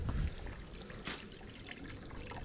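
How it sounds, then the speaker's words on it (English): A piped spring by a trail shelter on the Appalachian Trail in winter, water running and trickling steadily at close range in a soft, continuous babble. "this is the piped spring here by the shelter. Seems like it's running pretty good now"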